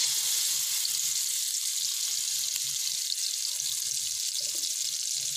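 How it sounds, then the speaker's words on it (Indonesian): Spice paste fries in a little hot oil in a pan, a continuous close sizzle and crackle with faint scraping underneath and no voices. "Kita tumis sebentar saja."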